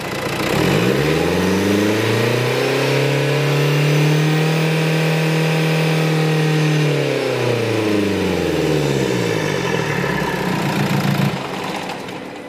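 Diesel engine of a 2016 Renault Kadjar 1.5 dCi, serviced recently and failing to rev up properly, rising from idle into a sustained rev, holding there, then falling back, loud and close under the open bonnet.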